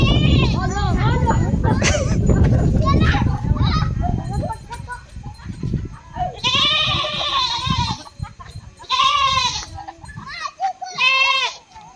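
Goats bleat loudly and repeatedly nearby, several wavering calls in the second half, after a stretch of noisy rustling and people talking.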